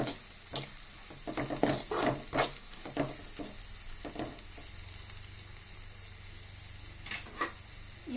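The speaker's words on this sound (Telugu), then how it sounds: "ఇప్పుడు ఒకసారి బాగా కలుపుకోవాలండి." Spoon stirring a pesarattu masala curry in a pan, with coriander and masala powder mixed in: close scraping strokes come in irregular bursts over a low, steady sizzle, no voices.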